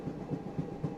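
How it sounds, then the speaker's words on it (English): A train passes on railroad tracks a few feet away, its wheels giving a steady rumbling roll with a regular rhythmic clack about every quarter second, moderately loud and alone. "so that's why there is the train audio in the background"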